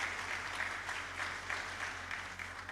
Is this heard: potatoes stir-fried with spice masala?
no